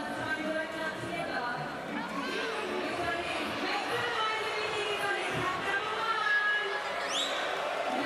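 A large arena crowd roars and cheers at a FIBA Basketball World Cup 2023 game between the USA and Canada, a steady, far-off wash of noise with a commentator talking over it.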